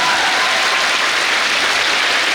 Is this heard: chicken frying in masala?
no